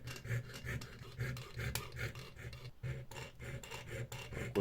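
Fine jeweler's saw blade, size 5/0, cutting a small part for a 1:35 scale T-26 tank model, giving a rapid, steady rasping stroke rhythm close up, with a brief pause midway before the strokes resume.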